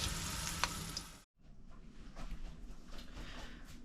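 Garlic frying in olive oil in a pan for aglio, olio e peperoncino, a loud close sizzle that cuts out for a brief moment when the cloves are flipped, then resumes as a steady crackle.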